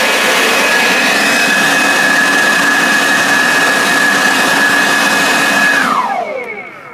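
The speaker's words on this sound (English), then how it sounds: "This is a Greenworks leaf blower." A Greenworks leaf blower runs at a steady, loud, close airy roar with a high whine for about six seconds, then the motor winds down and fades.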